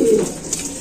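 Pigeons cooing up close, a soft low throaty coo in the first moment followed by quieter murmuring through the rest of the short stretch.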